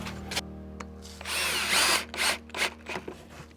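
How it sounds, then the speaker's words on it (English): A power drill whirs in a single sustained burst as it bores into wood, with knocks and handling sounds from the timber before and after. "remembering to pilot some holes near that end grain"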